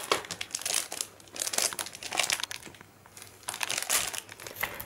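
Foil party hats crinkle and rustle close by in repeated bursts, as if handled and squeezed, with brief quiet gaps between.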